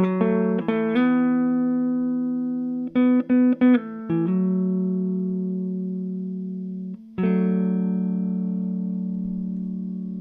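Clean electric guitar picked with the fingers through an amp, a few plucked notes and chords left to ring and slowly fade, heard alone.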